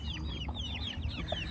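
A homestead hen clucks softly and steadily among her older chicks, whose high peeping chirps repeat close by over a low rumble of outdoor background noise.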